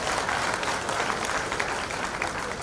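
Loud, dense applause fills a hall as a crowd claps for the Prime Minister and the Railway Minister at a new train launch event, continuous and unbroken for a few seconds.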